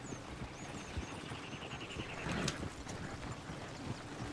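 Horse hooves clip-clop at an easy pace in the Red Dead Redemption 2 video game, a steady run of soft thuds beneath a busy outdoor ambience with bird calls and a louder rustle midway.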